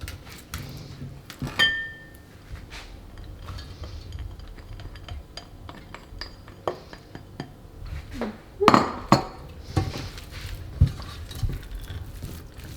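Whisking egg yolks into a cheese soufflé base in a bowl, with scattered clinks and scrapes of a utensil against the dish, some sharp knocks, irregular and close, with no talking.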